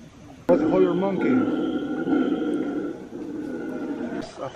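Deep, guttural roaring calls of a family of howler monkeys rise and fall continuously from nearby in the Peruvian Amazon, with a few human voices murmuring underneath.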